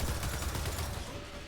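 Rapid automatic turret fire from a disco turret hitting an enemy in Gears of War 4, a dense rattling burst at steady close volume easing slightly toward the end, without talk.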